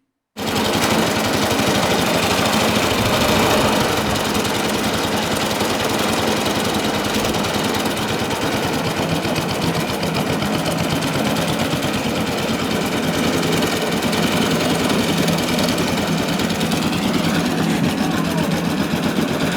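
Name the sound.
old Suffolk lawnmower engine running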